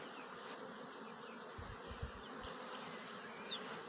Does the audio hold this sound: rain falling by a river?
no